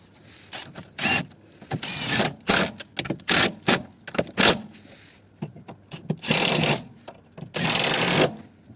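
A ratchet being tightened on a car's suspension near the anti-roll bar, heard as bursts of close, loud clicking and scraping strokes repeated in an uneven rhythm with short pauses between, no voices over it.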